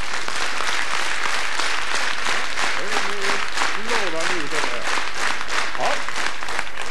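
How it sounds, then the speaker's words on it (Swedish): Loud, close applause from a revue audience, a rhythmic pulse of many hands clapping almost in unison throughout, with a few voices and laughs rising briefly over it. "Sen ska vi lära oss att applådera"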